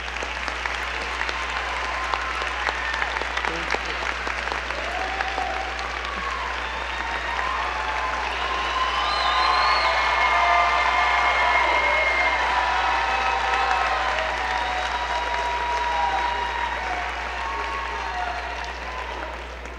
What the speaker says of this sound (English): Would you honor the students, please stand so we can give you a round of applause for your achievements.